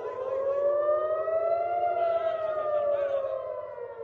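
Air raid siren sounding in Tel Aviv during an Iranian missile attack, a loud, steady wailing tone that rises and falls slightly over several seconds, heard alone without voices.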